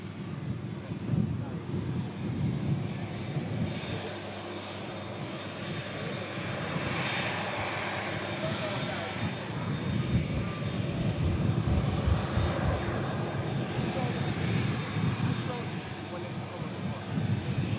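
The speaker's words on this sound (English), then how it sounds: "Saudi taxiing past us" Saudi airliner taxiing past at the airport, its jet engines giving a loud, steady whine and roar that swells slightly as it goes by, with wind buffeting the microphone.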